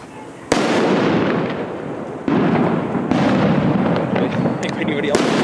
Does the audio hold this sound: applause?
no